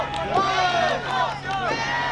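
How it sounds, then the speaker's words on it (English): A wrestling crowd at a live pro wrestling show chanting in rising and falling vocal waves, a loud, continuous mass of voices filling the room. "And the crowd is chanting for the Rebel Storm."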